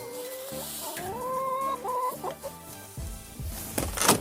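Chickens cluck and warble close by, a run of rising and falling hen calls with a few sharper squawks near the end.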